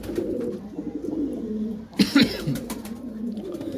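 Pigeons in a pigeon keeper's stock in Faisalabad, including Ferozpuri birds, give low soft coos through continuous background noise, with a brief louder burst near the middle.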